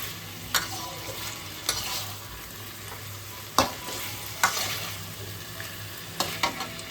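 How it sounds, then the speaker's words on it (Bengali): Chicken being cooked down with salt in oil in a wok-style kadai for a pineapple chicken dish: a steady low sizzle with sharp, scattered spatula scrapes and knocks, close and alone. "চিকেনটা আমাদের খুব ভালোভাবে কষানো হয়ে গেছে।"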